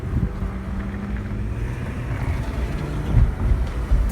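A 2001 Honda Passport accelerating harder through its gears, heard from inside as a steady low engine and road rumble with wind noise that swells slightly toward the end, no talk.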